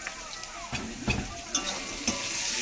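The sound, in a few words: onion frying in a pan for egg curry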